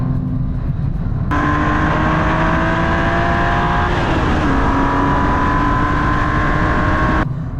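A BMW M2 Coupe prototype sports car engine pulls hard under acceleration, a loud, steady, rising drone heard from inside the car with a brief shift partway through, no voices over it.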